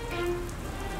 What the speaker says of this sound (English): I think it's going to rain.